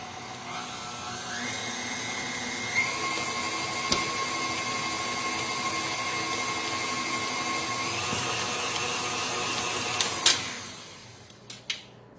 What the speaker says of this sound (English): We're going to go ahead and mix those all together.